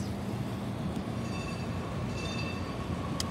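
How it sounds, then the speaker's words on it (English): A San Francisco Muni train passes at a distance below a hotel rooftop, a faint low rumble with light rail hiss and a brief squeal near the end. "Oh, yay, you can see the Muni train."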